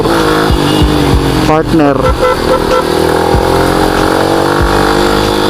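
A Yamaha Sniper 150 manual motorcycle runs steadily and close on a gray, rainy day, its engine note shifting as it revs and changes gear, with a voice speaking over it.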